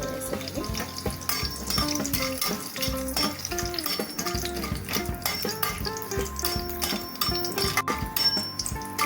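Whole garam masala spices crackle in hot oil for a dhaba-style egg biryani, a steady frying sizzle with pan and utensil clinks running under melodic background music.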